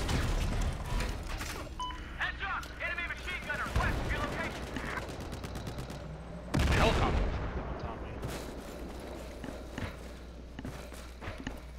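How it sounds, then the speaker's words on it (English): Video game gunfire: scattered shots and bursts crackle through steady game ambience, one heavier blast standing out partway through, with voices talking over the action. "Who is shooting at us?"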